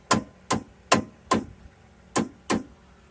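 A small hammer taps a seized brake caliper part on a 1998 Ram 1500 Laramie 5.2L, six sharp, close metallic knocks in an uneven rhythm with a short pause before the last two.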